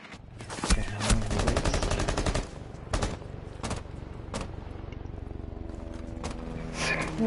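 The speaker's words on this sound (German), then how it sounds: "Schüsse." Gunfire in Rainbow Six Siege during a competitive esports match: rapid automatic bursts crack out in a dense run at first, then sparser single sharp shots punctuate a quieter background of game ambience.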